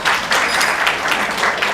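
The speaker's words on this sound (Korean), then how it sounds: "박수 한번 부탁드리겠습니다" An audience at a property sales presentation in Orange County claps in a steady burst of applause, fairly close and loud, with no talking.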